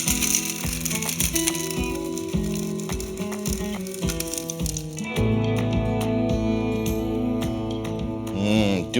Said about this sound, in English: All right, grind it up.